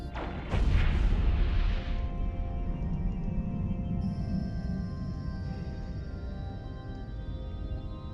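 Ship weapons fire in the Eve Online space game, opening with a loud booming burst that fades into a sustained droning rumble with ringing electronic tones.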